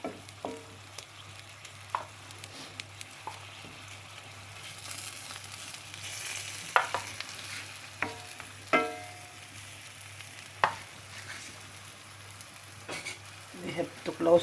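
Shrimp and vegetables sizzle steadily in a pan, with scattered clinks and scrapes of a utensil stirring them, close and moderately loud.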